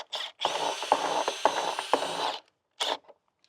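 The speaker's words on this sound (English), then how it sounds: "we put our drill on the end" A power drill spins a tap reseating tool in a steady whirring run of about two seconds, with a few sharp ratcheting clicks. A short second burst follows after a pause.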